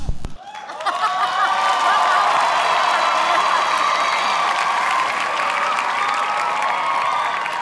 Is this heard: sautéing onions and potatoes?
no